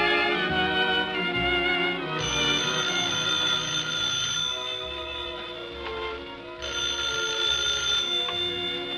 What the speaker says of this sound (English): Phone call for George Burns.